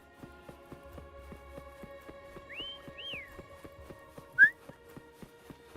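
A character in the video game Wuthering Waves whistles two short rising notes to call a companion, clear over a quiet steady rhythmic game backdrop, followed by a brief sharp chirp.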